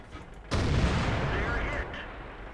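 A tank cannon fires in World of Tanks, with a T26E4 SuperPershing involved: one sudden loud blast with a heavy rumbling tail that fades over about two seconds, after quieter background sound, with no talk during the shot.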